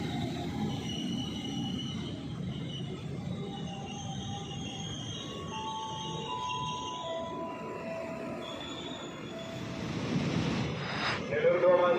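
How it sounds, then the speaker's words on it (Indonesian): A train runs straight through Matraman–Jatinegara station in Jakarta, Indonesia, heard as a steady rumble with high squealing wheels, growing louder near the end as it passes close by. "Jalur 1 dari arah barat kereta api melintas langsung"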